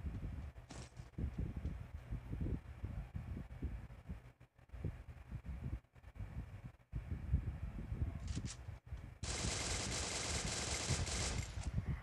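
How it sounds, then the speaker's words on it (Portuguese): Gunfire in a video game played through a live stream, a rapid run of muffled shots and crackles over rumbling game noise, ending in a steady bright hiss after a burst. "Mano, eu atirei pra ele não ouvir o barulho da mina"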